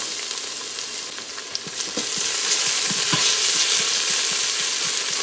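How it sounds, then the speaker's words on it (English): Onions, garlic and pounded pepper frying in a pan give a steady, loud sizzle with occasional crackles and stirring scrapes, continuous with no voices. "So we're going to fry up our onions here, my friends, as usual, just for about 30 to 45 seconds"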